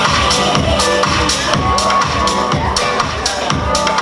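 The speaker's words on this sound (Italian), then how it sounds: "fare l'applauso al meritato successo alle nostre amiche" Crowd cheering and whooping at an Italian fashion show for curvy-figure models, steady and loud throughout with a rhythmic pulsing beat of music underneath.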